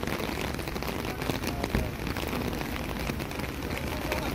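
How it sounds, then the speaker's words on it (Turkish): Heavy rain pouring down outdoors, a loud, dense, steady hiss of drops hitting the ground and surfaces with no break. "Yağmur yerden göğe yağıyor."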